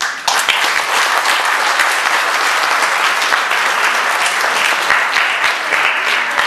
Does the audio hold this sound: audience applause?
yes